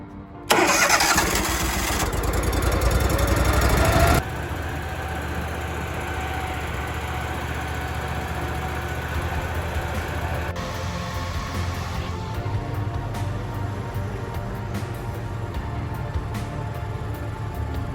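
Golf course maintenance machine engine cranking and catching, a loud rough start lasting a few seconds, then settling into a steady close idle hum with faint intermittent clicks, no talk.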